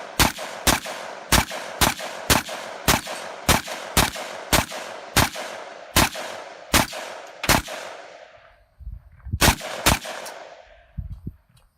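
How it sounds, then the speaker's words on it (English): AK platform rifle fire at a range, aimed at a barrier: about fifteen sharp, loud shots in an even, rapid sequence, a short pause, then three more close shots, with no talk. "I'm going to establish my standoff with an AK platform."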